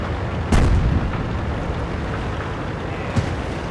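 In a tank video game, a heavy artillery boom lands near the start, followed by a smaller distant thump against a steady rumbling battlefield background.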